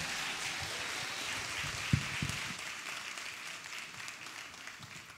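Audience applause for a Staff Sergeant at a presentation, a steady sustained clapping from a crowd across the whole stretch, moderately loud with no speech over it.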